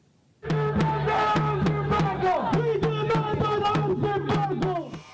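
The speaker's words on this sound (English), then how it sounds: "You're looking at the crowd in downtown Toronto. Pro-Palestinian protesters gathering at Young Dundas Square." Pro-Palestinian protest crowd gathered at Yonge-Dundas Square in downtown Toronto, chanting loudly in unison with a steady repeating rhythm, voices massed and close, continuing without pause for several seconds.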